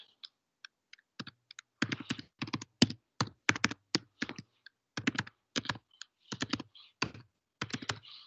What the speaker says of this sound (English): type in my details.